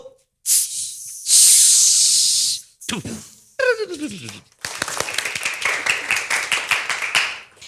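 Children giving a rhythmic 'firecracker clap' welcome, starting with loud hissing whooshes and a rising whistle-like voice sound imitating a rocket, then breaking into a rapid burst of many close, sharp claps.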